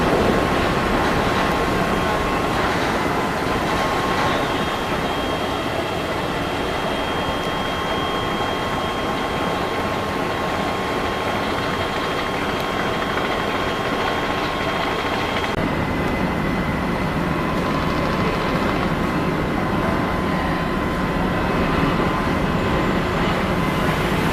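Passenger launch Parabat-11 pulls away from the ghat with a loud, constant diesel engine drone and a thin steady whine, a deep continuous rumble that shifts slightly partway through.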